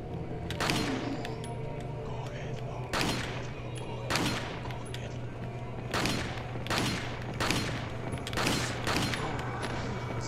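Handgun shots in Resident Evil 4, about nine sharp cracks at irregular intervals over a constant low hum and ambient game noise, a few fired in quick pairs.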